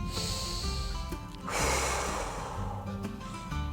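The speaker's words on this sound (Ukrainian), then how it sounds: "А тепер трохи сильніше робимо вдих і видихаємо сильно." Young preschool children in a group breathing exercise draw breath in through their noses and blow out hard through their mouths, a close burst of breathy exhalation rising over a faint background hum.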